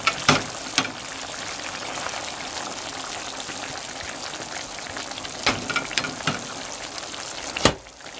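Hard-boiled quail eggs dropped into a pan of meatball adobo, steady close sizzling of the sauce with several distinct plops and clatters of eggs going in, no talking.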